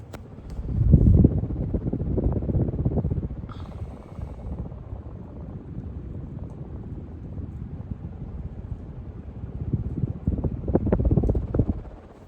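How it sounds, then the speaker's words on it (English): A Casablanca ceiling fan runs on high speed, its air movement giving a steady low rushing roar close to the microphone, with gusty buffeting swells at the start and end. "I'm going to give you guys the close-up so you can hear the air movement or the wind noise, whatever you want to call it"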